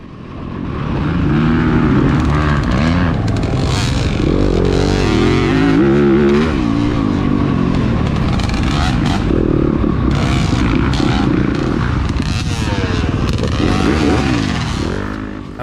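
A Yamaha YZ250FX dirt bike races on a harescramble course at Windwood Farms, its engine loud and close, revving up and down continuously through gear changes.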